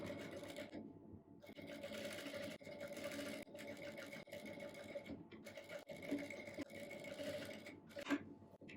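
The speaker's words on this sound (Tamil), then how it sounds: "இப்போ நம்ம வந்து இந்த ஃப்ளீட் எடுத்துருக்கிறத அப்படியே ஸ்டிச் பண்ணிக்கலாம்." A sewing machine stitches the pleats of a puff sleeve, a close, steady mechanical whir that runs in bursts with brief pauses between, alone without talk.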